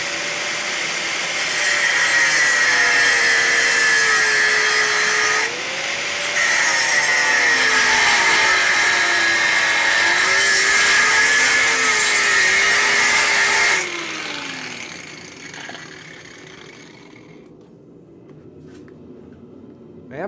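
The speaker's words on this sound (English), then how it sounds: "cut them with an angle grinder" An angle grinder cuts metal in a blacksmith's forge shop, a loud, steady high-pitched whine whose pitch wavers under load for about fourteen seconds, briefly dipping once, then spinning down and fading to near quiet.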